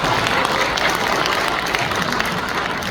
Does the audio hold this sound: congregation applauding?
yes